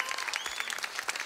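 Crowd applause welcoming a performer at a Turkish folk music show, a steady wash of many hands clapping, moderately loud and continuous, with no talk on top.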